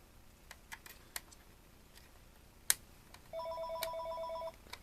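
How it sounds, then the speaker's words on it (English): A corded telephone in a workshop where old phones are being scrapped rings with an incoming call, a rapid trilling electronic ring lasting over a second, preceded by scattered clicks and taps of handling, fairly faint with no talk. "we are assaulted with a phone call"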